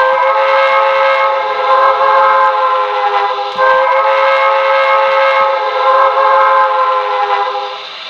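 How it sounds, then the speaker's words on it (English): A Paragon2 sound system in an HO-scale Broadway Limited NYC 20th Century Hudson steam locomotive gives a long, haunting steam whistle, sustained and loud with slight wavering over several seconds. "This is the whistle it comes with."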